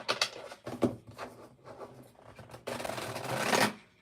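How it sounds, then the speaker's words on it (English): Tarot cards are shuffled by hand in several short riffling bursts, close and moderately loud, ending in one longer, fuller shuffle with no talk over it. "Give it a good shuffle."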